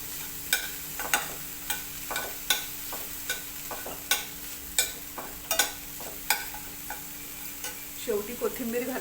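Samosa filling of mashed leftover chapati and spices being stirred and pressed in a pan, with a steady series of sharp spoon scrapes and taps against the metal over a faint sizzle, close and clear, with no voices.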